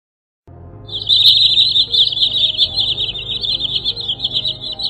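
Green sandpiper calling, a continuous run of high, sharp whistled notes held steadily over about four seconds, fairly close and clear over a low background hum, with one brief louder note near the start.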